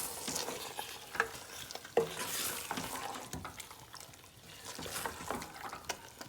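Guyanese-style mutton curry sizzles and fries in a pot while a spoon stirs it, giving soft scraping clicks over a steady wet crackle.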